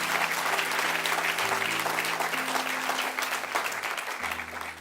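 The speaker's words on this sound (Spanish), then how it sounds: "Dale un aplauso otra vez, aplauda todo el día." A church congregation applauds: a loud, continuous burst of many hands clapping that lasts the whole moment, with a faint sustained musical tone underneath.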